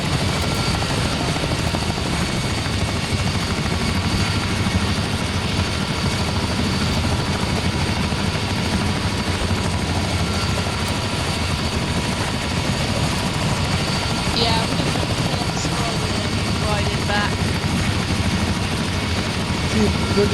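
A helicopter flying overhead during a training session, a loud continuous rotor and engine drone lasting throughout, with people talking faintly beneath it.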